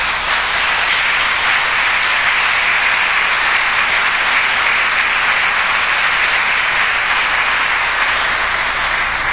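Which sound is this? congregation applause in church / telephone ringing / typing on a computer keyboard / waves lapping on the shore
congregation applause in church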